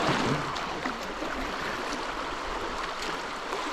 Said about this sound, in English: Probably some of the fastest water we've seen yet.